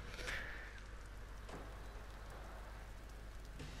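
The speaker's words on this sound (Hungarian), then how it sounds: "Hát, itt nagyban esik az eső." In Warhammer Vermintide 2, game rain patters steadily and softly in a continuous hiss, with a few faint splashy accents scattered through the quiet downpour and no speech.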